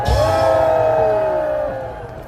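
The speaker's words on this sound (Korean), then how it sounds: "감사의 함성을 보내주시기 바랍니다" A large crowd at a patriotic political rally in Gwanghwamun, Seoul, lets out a loud, sustained collective shout of thanks that fades after about two seconds.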